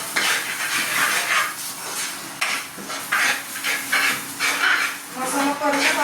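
Ground masala paste for Bogichi bhaji fries in a pan with a soft, steady sizzle and hiss, broken by scraping stirs, while someone talks over it.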